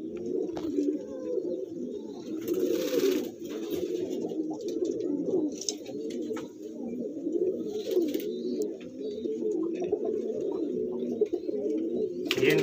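Malwai Punjabi pigeons, a pair of male and female, coo continuously at close range in a steady, throaty rolling murmur, with brief rustles and faint background sounds.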